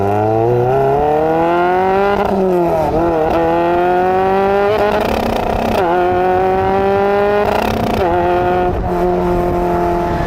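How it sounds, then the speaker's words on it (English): Lotus Elise Sport 160 engine revving hard and loud from inside the car, climbing through the gears with sharp shifts and repeated bursts bouncing off the rev limiter. "I know it sounded like I was bouncing into the rev limiter"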